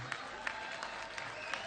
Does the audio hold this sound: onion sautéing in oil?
no